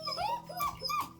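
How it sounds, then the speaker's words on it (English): A dog whines and whimpers close by in short, rising high-pitched cries with a few yips mixed in, around puppies being bathed. "And if you're hearing some whining, that's our dog Diamond over there"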